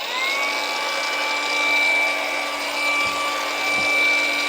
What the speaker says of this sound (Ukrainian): Як ви помітили, дві болгарки мають плавний запуск